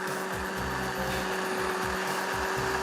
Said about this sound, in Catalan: I ara, a triturar la sopa.